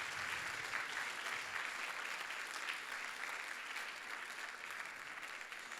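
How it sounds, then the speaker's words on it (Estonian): An audience at a playback show applauds, a continuous, fairly distant patter of many hands clapping that stays level from start to finish. "aplausi."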